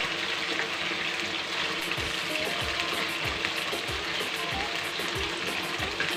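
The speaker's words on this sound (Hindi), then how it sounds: "इसको हम हल्का गोल्डन करने तक फ्राई करेंगे।" Cumin, carrots and potatoes fry in hot oil with a steady, dense sizzle throughout, broken by recurring soft scrapes and stirring noises; no talking.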